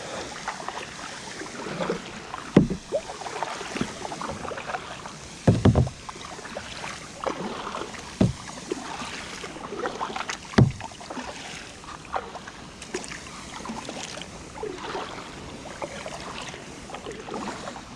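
A kayak paddle dips and splashes in water with irregular strokes, close to the microphone. Wind and lapping water carry through the scene, and no voices are heard.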